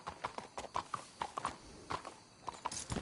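A horse gallops and clops along in Red Dead Redemption 2, a steady string of close hoof strikes broken by short high whinnying calls near the end.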